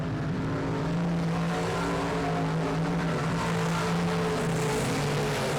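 A race car on the back straightaway of Texarkana 67 Speedway gives off a continuous, steady engine drone of fairly constant pitch with a few slight shifts, heard clearly with nobody talking.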